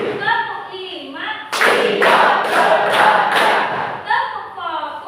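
A classroom of high school students in Banda Aceh claps together in a quick rhythmic burst of about six sharp, loud claps, with a teacher's voice speaking before and after.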